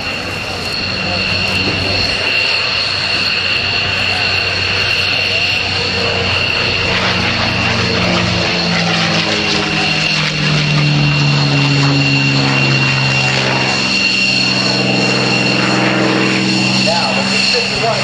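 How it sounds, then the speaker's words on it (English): A P-51 Mustang's Packard-built Merlin V12 liquid-cooled engine roars loudly and continuously, its pitch shifting as the plane passes close by at an airshow at NAS Oceana. "listen to the sound of the Rolls-Royce designed, Packard-built Merlin V12 liquid-cooled engine"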